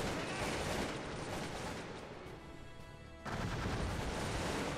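Dense gunfire and grenade blasts from a Cossacks 2 battle roll on continuously, dipping briefly and then surging back to full intensity, with no voices.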